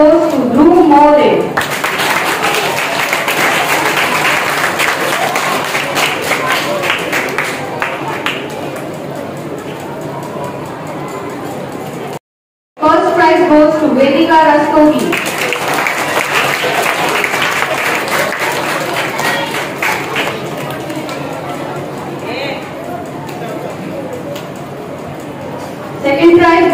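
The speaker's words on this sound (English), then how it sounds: "Clap for your friends." At a school prize distribution for standards 1 to 3, the audience claps loudly in two long bursts separated by a brief silence. Voices are heard as each burst begins.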